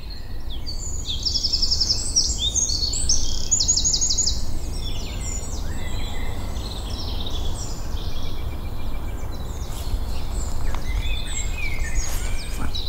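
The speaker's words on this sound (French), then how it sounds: "On entend au fond, c'est le merle noir." Melodic common blackbird song rings out over a steady low rumble at 1200 metres altitude, the bright phrases clearest early on and fading back, somewhat distant, with no talking.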